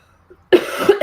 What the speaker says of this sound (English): I apologize for my coughing, but I have this cough.